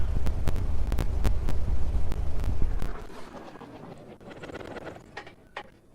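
A simulated aircraft engine idles in the Prepar3D v4 flight simulator while parked at Kiruna airport, a steady low throbbing hum with periodic clicks that cuts out about halfway, leaving only faint residual noise and scattered clicks.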